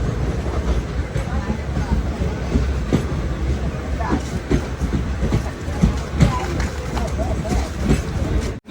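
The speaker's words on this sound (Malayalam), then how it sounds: "ട്രെയിൻ ഇപ്പോൾ കീഴ്വെളൂർ എന്ന് പറഞ്ഞിട്ടുള്ളൊരു റെയിൽവേ സ്റ്റേഷനിലേക്ക് എത്തിയിരിക്കുകയാണ്." A DMU train pulls into Keezhvelur railway station, heard from inside the carriage as a continuous, fairly loud rumble and rattle of wheels on track with faint clatter throughout.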